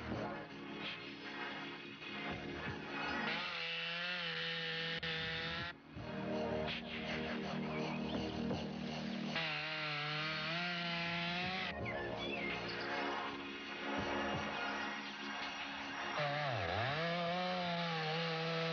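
A chainsaw roars steadily, its engine pitch rising and dipping as it bites into an ancient gum tree during logging in Tasmania's Huon Valley, loud and sustained for the whole stretch.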